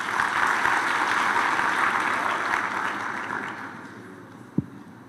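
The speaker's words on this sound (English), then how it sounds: "can we give her a big round of applause?" A conference audience gives a full round of applause for a presenter, a dense, steady clatter of many hands that slowly tapers off, ending with a single knock.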